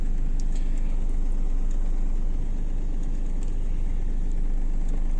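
A car engine idles steadily with the clutch held down after shifting into first gear, a constant low rumble close by with no talk.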